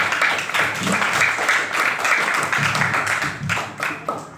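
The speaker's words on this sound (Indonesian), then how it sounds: "Tepuk tangan untuk kelompok 4." A classroom group claps for group 4 after its presentation during a teacher-training session, a fairly loud, close burst of uneven hand-clapping that carries on for several seconds.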